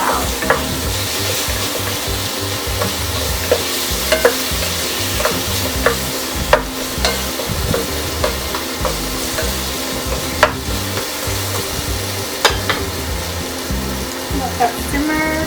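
Vegetable curry frying and being stirred in a hot pan, with a steady loud sizzle throughout and scraping, clattering stir strokes on top, close and continuous.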